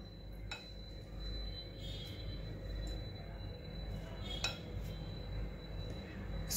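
A steel spoon clinks against a bowl a few times as spoonfuls of betel nut are added to a paan masala mouth freshener, sharp, brief taps over a quiet background.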